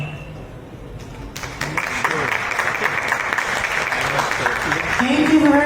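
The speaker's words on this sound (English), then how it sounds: "a massive round of applause for Mr. Paul Lee Simeon" An audience at a cybersecurity hackathon event applauds after a talk, with the clapping starting suddenly and holding steady and dense for several seconds. A few voices are mixed in.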